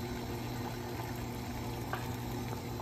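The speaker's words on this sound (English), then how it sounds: "water boils perfectly through this paper towel" Water boils through a paper towel on an induction cooktop, a steady close bubbling hiss with faint pops, and no voices over it.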